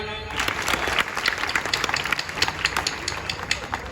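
An audience breaks into brisk applause at a local event honouring its chair and inaugurator; many hands clap densely for a few seconds, moderately loud and near.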